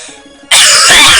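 A single sudden loud cough bursts in close to the microphone after a near-silent moment and rings out harshly to the end.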